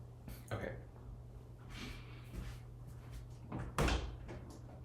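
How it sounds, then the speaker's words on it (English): A door into a bedroom in a home studio opens, with a few soft knocks and clunks and a louder thud near the end over a low steady room hum. "So there is a door to get in."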